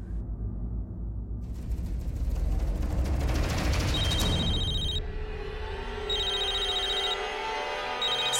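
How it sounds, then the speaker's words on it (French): A mobile phone rings with a repeating high electronic ringtone, its bright beeping bursts coming in regular pulses over a dense rumble from a televised drama scene. "C'est le téléphone de Nishi qui sonne maintenant."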